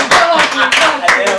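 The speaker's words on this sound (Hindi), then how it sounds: "बढ़िया बढ़िया, ताली बजाओ" Audience clapping at a live Hindi comedy show, dense and steady for a moment beside voices from the crowd.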